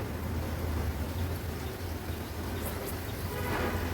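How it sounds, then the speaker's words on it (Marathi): Pomfret fish sizzle in about three tablespoons of hot oil on a large tawa, cooked Agri-Koli style. A dense, steady, loud frying hiss with a low rumble underneath runs throughout, and no one speaks. "तेल पण छान गरम झालं आहे। आता हा पापलेट आपण तेलावर सोडूया।"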